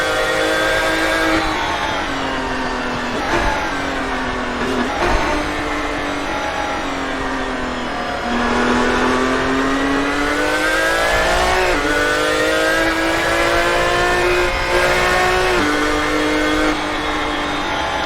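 A high-pitched V12 GT1 race car engine in a racing video game, revving and shifting sequential gears repeatedly, loud and continuous, its pitch climbing and dropping with each change.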